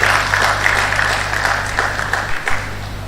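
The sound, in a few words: applause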